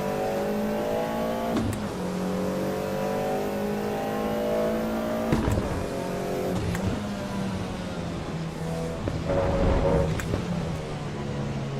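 A race car engine in the Assetto Corsa EVO video game revs hard and climbs through dramatic upshifts, each shift briefly dropping the pitch before it rises again, loud and continuous with no voices.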